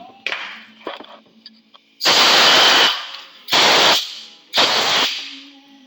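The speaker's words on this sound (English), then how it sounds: "take my air compressor, and I'm actually going to blow that out" An air compressor blow gun fires short, hissing blasts to clear metal filings from a Ford 8N tractor ignition part. After some faint handling clicks, three loud, close bursts of about a second each follow, with no talking.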